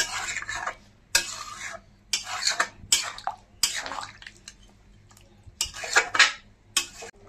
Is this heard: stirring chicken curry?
yes